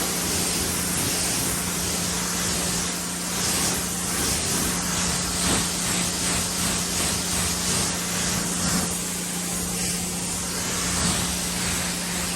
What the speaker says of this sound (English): let's rinse it off and see how she goes